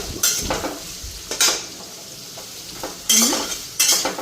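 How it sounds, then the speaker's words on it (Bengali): Eggplant, onion and chili being lightly fried, with a utensil scraping and clinking against the pan in a few separate bursts of stirring between quieter stretches of faint sizzle. "বেগুন, পেঁয়াজ আর মরিচটা হালকা ফ্রাই করে নিতেছি"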